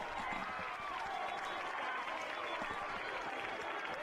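Crowd at a high school football game between Heritage Christian and Covenant Christian cheering and clapping after a big catch, a faint, distant wash of applause that holds steady throughout.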